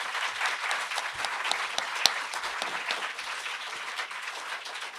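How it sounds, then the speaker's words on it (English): A room of people at a talk on labor militancy breaks into steady, moderately distant applause that carries on evenly for the whole stretch, with no speech over it. "You can give a round of applause now"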